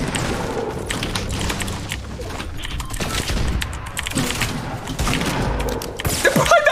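Gunfire in the video game Fortnite, dense bursts of rapid shots and thuds crowding together over busy game noise, with players talking faintly underneath.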